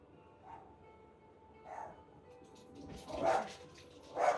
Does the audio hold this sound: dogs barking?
yes